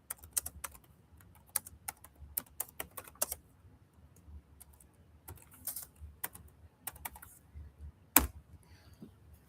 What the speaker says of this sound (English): Let me get this typed in.